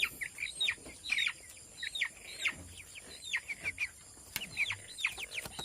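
Broiler chickens cluck and chirp repeatedly inside a dirty, poorly kept coop, short bursts in an irregular rhythm at moderate distance with no one talking.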